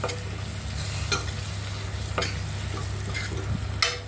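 Tomato sautés in a pan while a spatula stirs it, a continuous gentle sizzle over a low hum, punctuated by a few crisp scraping strokes at intervals.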